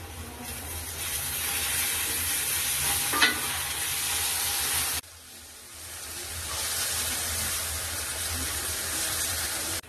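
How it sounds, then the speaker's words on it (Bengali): Chopped tomato goes into a pan with frying onion, ginger and garlic, giving a steady loud sizzle with stirring scrapes; the hiss drops sharply midway, then builds back up. "পেঁয়াজ আদা রসুন ভালো করে ভাজা হয়ে গেছে এখন টমেটো কুচি দিয়ে দেবো"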